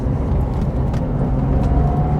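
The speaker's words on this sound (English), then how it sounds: "Accelerating over a really broken, bumpy bit of road there, it just hunkered down and went." A Porsche 911 GT3 RS 991.2 accelerating over broken, bumpy road heard from inside the cabin, a steady loud low rumble of engine and road noise with faint knocks, no talk.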